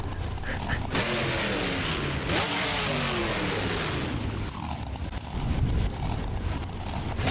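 A monster truck engine revs and roars in a BeamNG Drive truck racing event at Bristol Motor Speedway, a steady loud drone with rising and falling pitch sweeps that fills the whole stretch.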